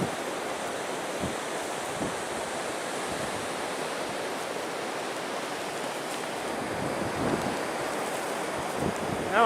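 Strong wind blows steadily along the Lake Superior shoreline at Pictured Rocks in January, a dense, roaring rush with faint surf-like swells and gusting buffets on the microphone.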